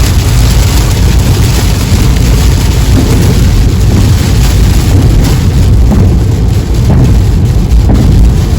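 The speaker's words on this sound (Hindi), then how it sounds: "इतनी तेज बारिश" Heavy rain roars steadily against a moving car on an Indian highway, a dense constant wash of noise with low rumble underneath and no voices.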